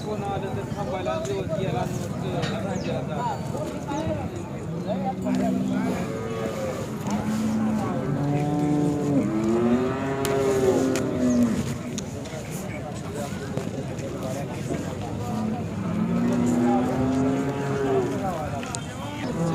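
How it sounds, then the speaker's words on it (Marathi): A Khillar cow lowing at a cattle market, several drawn-out moos rising and falling across the span, close and fairly loud over steady crowd murmur and people talking. "मित्रांनो ही एक खिलार गाय आहे"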